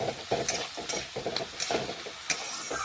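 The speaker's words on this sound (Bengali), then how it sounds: "এটাও ভালোভাবে সবজির সাথে বেশ কিছুক্ষণ মিশিয়ে একটু আমি হালকা ভেজে নিচ্ছি" Soaked moong dal and sago are stirred and fried with vegetables in a pan, giving a rhythmic scraping of a spoon over a soft sizzle, close and repeated about every half second.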